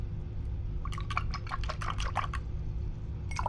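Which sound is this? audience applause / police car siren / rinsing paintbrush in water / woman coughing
rinsing paintbrush in water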